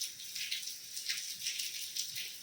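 Rain falls in a soft, steady patter of raindrops, fairly faint and continuous, with no voices.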